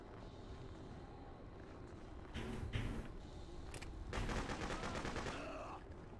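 Machine gun fire in the video game Freedom Fighters: distant rattling bursts of automatic gunfire over low background rumble, two longer bursts standing out mid-clip.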